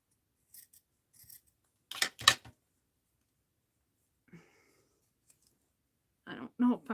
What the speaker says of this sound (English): I don't know if I'm going to be able to tear that thin of a strip off of here.